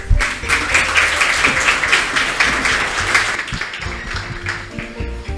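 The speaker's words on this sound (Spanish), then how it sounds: "Le vamos a dar un fuerte aplauso para arrancar" An audience at a talk on personal finances and workplace productivity claps loudly to welcome a speaker, sustained applause with some voices and scattered thumps mixed underneath.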